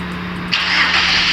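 A Perodua Myvi engine, rebuilt after a broken crankshaft pin, cranks and fires into life: a low steady hum, then a sudden bright rush of engine noise that settles into a loud running idle.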